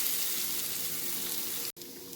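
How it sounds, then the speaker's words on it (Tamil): Urad dal fries in oil in a pan for kozhukattai, a steady close hiss and crackle that stops abruptly for an instant, then resumes. "பாருங்கள், இப்போது உளுந்து நல்லா ஃப்ரை ஆகிடுச்சு"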